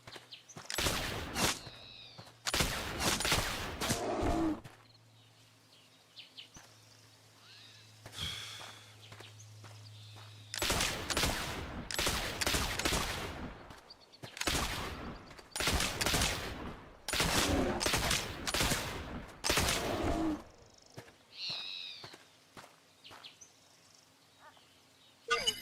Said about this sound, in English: Three shots for a bear